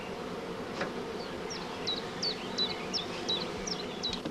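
Honeybees buzz around a hive in a soft, continuous hum, with a few bees droning close by.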